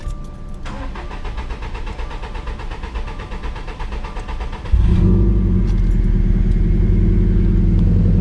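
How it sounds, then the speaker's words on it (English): A 2016 Subaru STi cranks with a steady whirring starter for several seconds, then the engine catches loudly and settles into a close, steady idle. "going to turn the car on."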